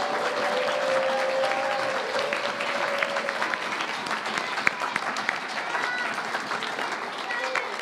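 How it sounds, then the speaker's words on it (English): A church congregation applauds after a Christmas nativity pageant, a full, continuous round of clapping with a voice briefly audible early on, holding steady to the end. "can we give a big round of applause for everyone"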